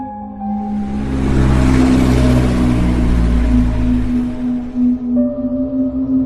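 A car passes by on a deserted highway at night, swelling from a steady low hum into a loud broad whoosh and fading again over a few seconds, with a low droning tone underneath.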